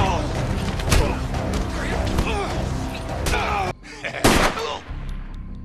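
A film fight scene erupts in gunfire, loud bursts of shots and crashing impacts over a dense, busy soundtrack, cutting to a brief hush before another sharp blast and lingering rumble.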